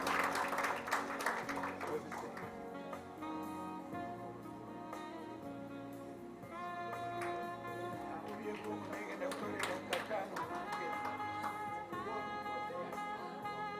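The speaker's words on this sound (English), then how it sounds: "Round of applause, please." Scattered applause at a club charter night ceremony, moderate and somewhat distant, mixed with a sustained musical tone and murmuring voices in the room.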